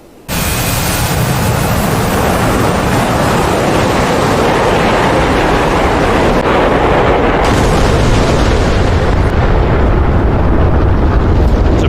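A ripple of bombs dropped from a Su-27-family jet strikes a group of tanks in DCS World, a sudden loud blast rolling into a sustained, dense roar of explosions that rumbles on steadily for the whole stretch.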